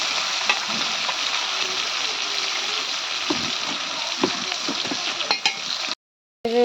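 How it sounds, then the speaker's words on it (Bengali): Vegetable curry sizzles and fries steadily in a hot pan, with occasional stirring clatter and a brief cut to silence near the end. "তরকারিটা একটু ভাজতেছি তরকারি রান্না হচ্ছে"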